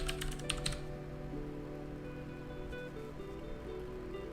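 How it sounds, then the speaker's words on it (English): A loud computer keyboard gives a quick burst of clicky keystrokes at the start, and a few scattered light taps follow over faint game music in the background. No voices. "Sorry for the typing noises. I can't really control how loud my keyboard is"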